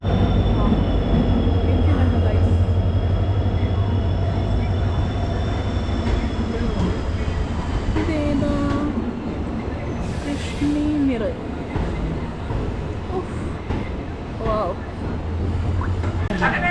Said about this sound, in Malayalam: ലോണ്ട ജംഗ്ഷനിൽ നിന്ന് നമ്മുടെ ട്രെയിൻ ഇപ്പോൾ എടുത്തു